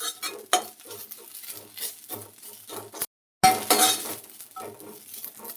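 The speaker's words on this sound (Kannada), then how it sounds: "ಆದಷ್ಟು ಕಬ್ಬಿಣದ ಬಾಣಲಿ ಇದ್ದರೆ ಅದರಲ್ಲೇ ಹುರ್ಕೊಳ್ಳಿ" A spoon stirs drumstick leaves roasting over a low flame in an iron pan, giving soft repeated scraping and light clinks with a faint sizzle and a brief silent gap.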